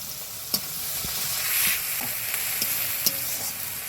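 Ginger paste sizzling in hot oil with browned onion and garlic paste, a steady close crackle broken by a few sharp clicks and scrapes of a stirring spoon against the pan.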